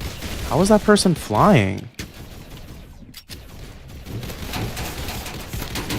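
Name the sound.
Uzi gunfire in a video game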